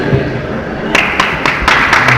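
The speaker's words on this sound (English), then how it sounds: "Big round of applause to our first place winner, Mr. Sam Street of Schwertkampf, Houston." Applause for the first place winner at the Schwertkampf 2014 sword fighting tournament in Houston: scattered claps and thuds that swell into louder bursts of clapping partway through, with some crowd noise underneath.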